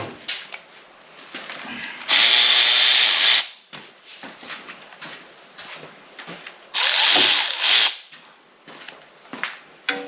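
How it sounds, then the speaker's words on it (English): An electric ratchet whirs in two loud, close bursts of about two seconds each while removing engine bolts from a Mopar 400, with quieter clinks and handling noises of tools and parts between the runs. "You don't have to use an electric ratchet, but it helps."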